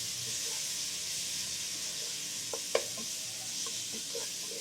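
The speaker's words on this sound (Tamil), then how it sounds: "போட்டு நல்லா வதக்கிடுவோம்." Spices and masala for chicken tikka biryani sizzle in a hot pan with a steady, even hiss. A few soft clinks and scrapes of stirring break through it.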